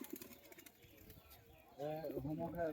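A local homing pigeon cooing close by, a short burst of throaty coos in the second half after quieter rustling.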